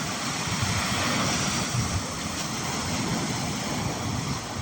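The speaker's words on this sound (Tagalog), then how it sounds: "Medyo maalon" Rough sea waves washing onto the shore at Pinipin, Santa Cruz, Ilocos Sur, a continuous loud surf roar with wind buffeting the microphone.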